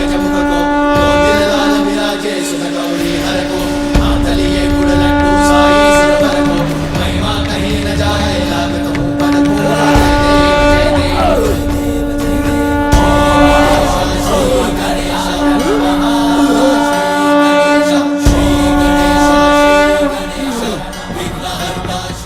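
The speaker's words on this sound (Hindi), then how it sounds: "नारायण के शंख की ध्वनि है" A loud, sustained conch shell blast drones steadily for a long stretch, layered with a dense, noisy background roar, in a dramatized mythological scene.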